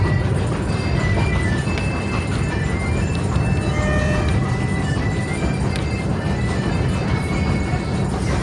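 Train rolling toward Aguas Calientes in Peru, heard from inside the carriage as a continuous loud rumble with rhythmic clacking of wheels over rail joints and faint squeals throughout.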